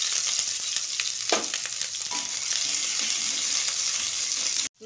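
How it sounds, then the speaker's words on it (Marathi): Mustard seeds and cumin sizzle and crackle steadily in hot oil for a tempering, making a dense, continuous frying hiss with scattered pops. The sound cuts off abruptly at the very end. "जिरे छान तडतडले की आपण त्याच्यामध्ये लसणाचे खांड आणि लसण अद्रक पेस्ट टाकून घेऊया"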